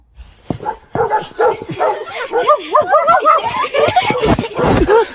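A voice imitates a dog, giving a loud, close run of barks and yelps that slide into whiny, whimpering howls over about five seconds.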